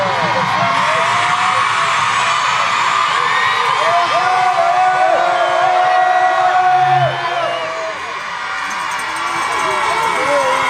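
A live audience shouting and cheering loudly at an outdoor scout jam opening ceremony, trying to drown out machine noise, with a steady roar of voices and whoops, then briefly dipping near the end before swelling again.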